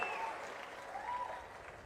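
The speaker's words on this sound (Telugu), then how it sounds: "గట్టిగా చప్పట్లు కొట్టి కలెక్టర్ని," Audience applause for a district collector at a public event where farmers receive passbooks, a soft, steady wash of clapping heard from a distance through a faint crowd murmur.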